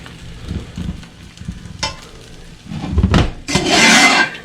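A utensil scrapes and pushes eggs around a hot frying pan, making soft scuffs at first, then louder rasping strokes joined by a rising sizzle near the end.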